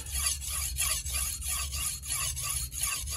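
Dalstrong kitchen knife drawn back and forth across a sharpening stone to remove the burr, a steady rhythmic rasping of about eight close, even strokes with no talk.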